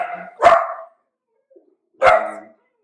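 Dog barking twice, loud and nearby, each a sharp single woof, about one and a half seconds apart, with no talk in between.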